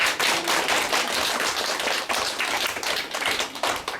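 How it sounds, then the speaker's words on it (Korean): A hall audience closing a youth and reunification expert debate with vigorous applause, many hands clapping in a loud, continuous, crackling burst throughout, with no speech over it. "힘찬 박수로"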